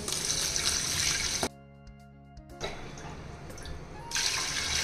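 Water is poured from a glass into rice for biryani, a steady close gush that stops briefly midway and then resumes.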